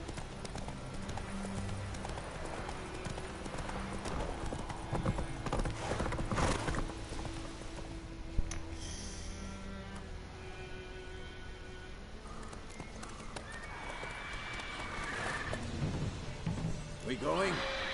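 A horse ridden in The Witcher 3 clip-clops at a steady pace with occasional whinnies, heard under game music and a few ambient effects.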